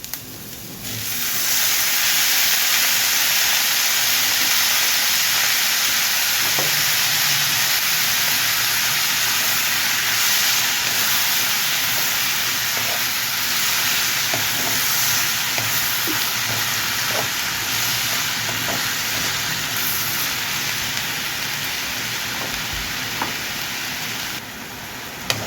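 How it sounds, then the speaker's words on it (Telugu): Cut okra fries with onions in a pan. After a short quiet start, a loud, continuous sizzle and hiss runs close and unbroken for the rest of the stretch. "ఇప్పుడు ఇందులో కట్ చేసుకున్న బెండకాయలు వేసుకుందాము."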